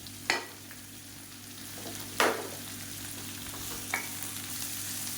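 Chopped tomato and tamarind sauté in a pan over a steady hiss of sizzling. A few sharp spoon scrapes stand out against the frying, which is close and alone, with no talk.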